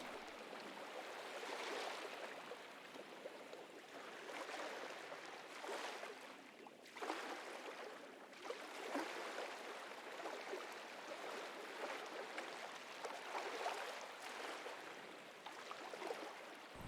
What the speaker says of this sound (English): We spent some time walking along the shore of Lake Erie, taking in the calm rhythm of the waves.